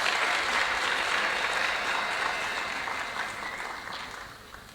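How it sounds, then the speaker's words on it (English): An audience at a formal event gives a guest of honor a round of applause, a dense and steady clatter of clapping that gradually fades toward the end. "Let's welcome Mr. Ndalama with a round of applause"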